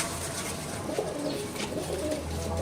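Pure Washi high flyer pigeons coo in a steady, soft, continuous murmur of overlapping calls, close by, with no talking.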